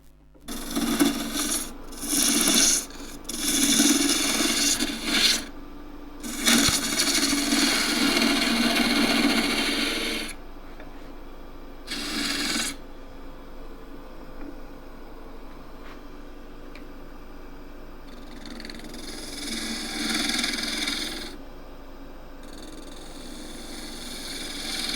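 Wood lathe turning the bottom of an enclosed wooden vessel: a loud, steady scraping rasp in repeated bursts of several seconds, with pauses between cuts, near and with no voices.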